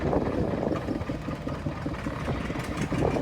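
A vintage drawbar tractor from the 1920s–30s idles steadily at a farm machinery rally's grand parade, a continuous low, even engine chug heard close up with no speech.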